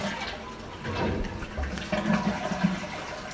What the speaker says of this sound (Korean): 화장실 물 한번 내려봐야죠